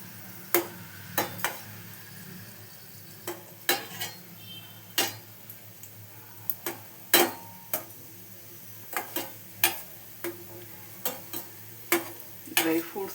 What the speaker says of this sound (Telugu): ఇవి బాగా గోల్డెన్ కలర్ వచ్చే వరకు వేయించుకున్నాము.